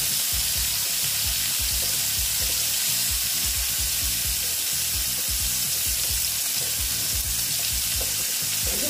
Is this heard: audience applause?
no